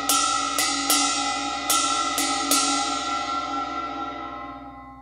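A jazz ride cymbal is played with a steady spang-a-lang pattern. Six clear, bright strikes ring out and overlap, and the cymbal's shimmering wash decays slowly between hits. No talking.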